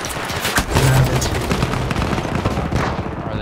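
Sustained gunfire rattles through a Battlefield 1 Operations battle at Monte Grappa, dense bursts of rifle and machine-gun shots layered over a continuous loud wash of battlefield noise with no pauses.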